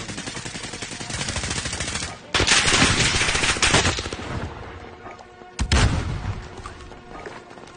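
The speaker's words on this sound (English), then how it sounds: "there's also a gunfight going on over here" Rapid automatic gunfire in a shooter video game, loud dense bursts of sprayed rounds with brief pauses between volleys and sharp renewed bursts.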